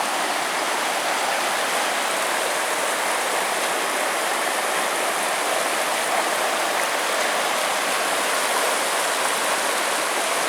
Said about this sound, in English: we finally made it down here to the Temperance River